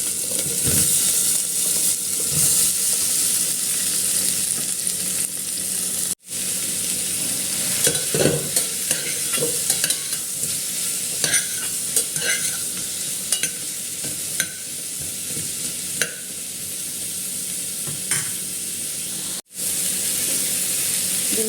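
Green chillies, sliced onion and ginger sauté in oil inside a pressure cooker, giving a steady loud sizzle with scraping stirs throughout, briefly dropping out twice.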